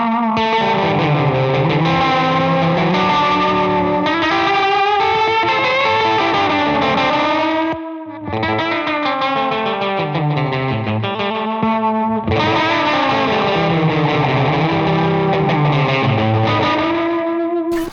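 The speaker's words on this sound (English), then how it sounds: "One way that you can really accentuate the craziness of that setting is by putting the Epoch Boost after the delay." An electric guitar runs through a Catalinbread Epoch Boost placed after a delay pedal. It plays a continuous, heavily effected and distorted line with swirling, pitch-bending repeats and a brief drop near the middle, with no talking.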